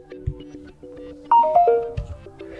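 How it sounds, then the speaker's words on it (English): Samsung Galaxy F23 phone plays its full-battery charging notification, a bright electronic chime of several stepped tones over a soft repeating pulse, loud and clear with no talk. "when your battery will be fully loaded, charged, then you will get the sound which you can also choose right here"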